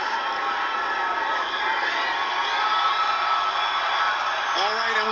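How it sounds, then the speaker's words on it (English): A crowd along Pennsylvania Avenue at an inauguration cheers and whoops excitedly in a steady roar, with voices shouting within it and a reporter talking over the noise. "we see the crowd now really getting excited on this side of Pennsylvania Avenue"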